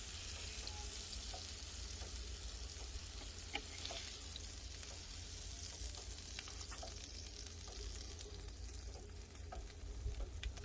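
Steaks sizzle on a grill with a steady, dense frying hiss and scattered small pops and crackles, continuous and close, with no talking.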